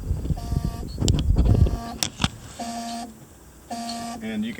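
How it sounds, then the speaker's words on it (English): In a Datsun 510 wagon, an electronic key-reminder buzzer pulses in repeated short tones after a burst of rustling and clicks, while a person talks over it. "you can hear the key buzzer still works"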